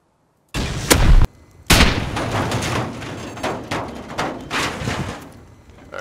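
Video game gunfire during an offline raid: loud close shots and booming bursts, a sharp cluster near the start, then a brief pause and a long run of repeated reports with echoing tails.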